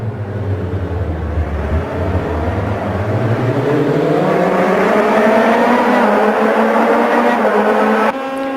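A race car engine in the Automobilista 2 racing game revs steadily higher through the gears, loud and continuous, as if heard from inside the cockpit, then cuts off abruptly.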